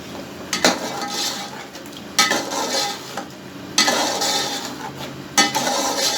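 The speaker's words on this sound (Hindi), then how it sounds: "4 टमाटर हैं, उनकी मैंने प्यूरी बना ली है। उस प्यूरी को मैं इसके अंदर ऐड कर रहा हूँ।" Tomato puree goes into a pan of browned chicken curry, with steady frying sizzle and repeated scraping stirs, each stroke marked by a sharp metallic clack, loud and close with no talk.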